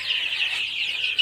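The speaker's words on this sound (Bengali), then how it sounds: "এই দেখেন সারা মুরগি এখন ঘরে যাবে।" Chickens of the Sonali breed cluck and chatter together at close range as they head into their coop, a short burst of busy, overlapping calls.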